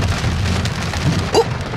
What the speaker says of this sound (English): It's raining. Oh my god. It's hard now.